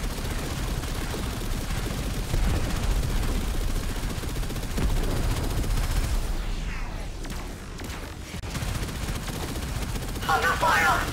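Sustained weapon fire from a Railjack ship in the space combat of the game Warframe, a dense roar of rapid blasts that keeps going with a brief dip near the middle before building again.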